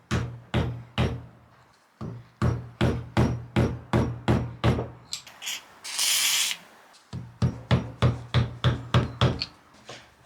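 A hammer taps out a bung on a sailboat mast in quick bursts of sharp, ringing knocks. A brief gap holds a short hiss, and then the rapid tapping resumes close up.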